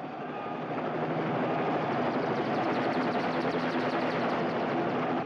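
An aircraft on takeoff, a steady broadband engine roar that swells slightly and holds loud and close, with no voices.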